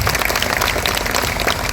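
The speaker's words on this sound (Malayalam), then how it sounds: "വലിയൊരു കയ്യടിയോടെ നമ്മുടെ നന്ദി അറിയിക്കാൻ നമുക്ക്" A crowd at a Women's Day hospital event claps together, dense sustained applause that fills the short moment evenly and loudly.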